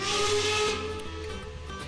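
A steam locomotive's safety valve lifts in the Railworks train simulator, on the NYC&HRR 999 excursion, giving a loud, steady hiss that carries on throughout under a low rumbling tone.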